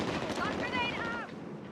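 Rapid gunfire in Call of Duty Modern Warfare 3 multiplayer on PS5, a dense close burst of shots lasting over a second with a voice speaking over it.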